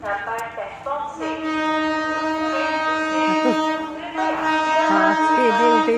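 At a station, a train sounds a long, sustained horn blast over rail noise, broken by short gaps, while voices carry on nearby.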